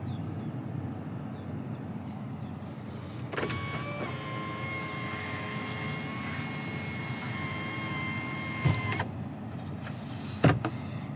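Power sunroof on a 2021 Toyota Tundra 1794 pickup, its motor whirring with a steady electric hum as the glass slides, preceded by a faint click and ending with a soft thunk and a brief later knock, heard close inside the cab.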